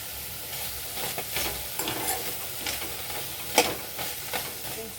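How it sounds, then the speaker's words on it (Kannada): Bitter gourd frying in a pan, a steady close sizzle with scattered stirring scrapes and clicks throughout, with no voices. "ನಾನು ಹಾಗಲಕಾಯಿನ ಫ್ರೈ ಮಾಡೋಣ ಅಂತ ಇಟ್ಕೊಂಡಿದ್ದೀನಿ"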